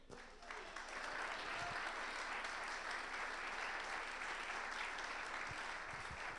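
Sustained audience applause fills a church hall at a pastors and leaders gathering as a guest named Sergio is welcomed. The clapping is dense, steady and loud for the full length, with no voices rising above it.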